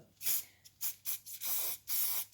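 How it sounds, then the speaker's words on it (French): Can of spray adhesive sprayed onto miniature pasture scenery in a series of short, close hissing bursts, about six quick puffs separated by brief pauses. "pour réaliser nos buissons, on va s'armer de colle en bombe"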